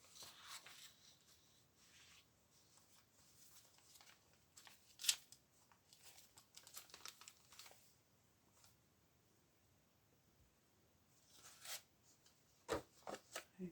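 Scissors cutting a paper mushroom shape for a craft, heard as faint, close snips and paper rustles in scattered clusters with quiet pauses between them.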